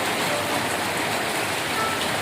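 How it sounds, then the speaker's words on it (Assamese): Steady, heavy rain falls continuously and evenly, a dense wash of drops close by with no voices. "বাপৰে বাপ, গোটেই দিনটো বৰষুণ দিছে।"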